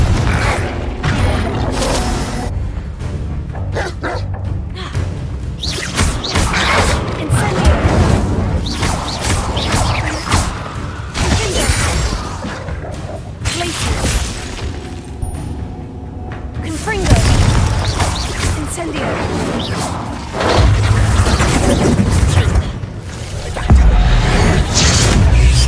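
Confringo blasting spells explode repeatedly during Hogwarts Legacy combat, heavy booms and crashing debris mixed with whooshes and clattering mechanisms in a dense, loud barrage, with a voice speaking at times.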